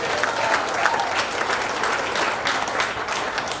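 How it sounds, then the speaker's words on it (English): Audience at a jazz night clapping for a visiting bass trombonist sitting in with a big band, steady crowd applause that holds at a fairly even level for the whole stretch. "If we could give him a clap too"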